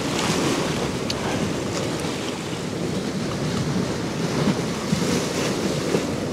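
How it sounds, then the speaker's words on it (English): Ocean waves surge and break on a shore in a steady, continuous wash of surf with wind noise over the microphone, loud and unbroken throughout. "we need these waves to sink so that we get that big, big wave coming through"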